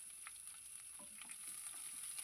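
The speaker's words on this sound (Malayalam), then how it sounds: "2 വറ്റൽമുളകും ചേർത്ത് ഒന്ന് വഴറ്റിയെടുക്കാം." Green chillies, shallots and dried chillies sautéing in coconut oil, a faint continuous sizzle with light stirring scrapes of the spoon in the pan.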